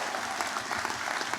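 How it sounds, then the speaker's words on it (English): Steady audience applause at a university graduation ceremony, a dense continuous patter of clapping from a large crowd throughout the short stretch. "Big round of applause."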